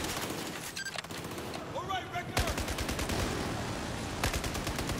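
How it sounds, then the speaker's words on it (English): Gunfire in the video game Battlefield 4, with rapid automatic bursts and sustained rattling shots over a dense, loud battle background, with a few brief whistling tones mixed in. "Shooting at the thing."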